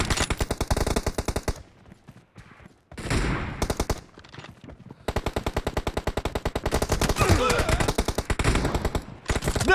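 Rapid bursts of gunfire in the mobile battle royale game PUBG Mobile, loud and close, separated by short silent gaps, with no talk over them.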